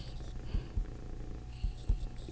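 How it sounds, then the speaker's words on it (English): A cat purrs close up, a soft low rumbling drone that swells in rhythmic pulses with each breath, steady and quiet. "purring, putting me to sleep"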